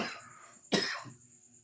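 A person with a cold coughs twice close by, first a softer rasping cough, then a sharper, louder one that fades off, in an otherwise quiet room.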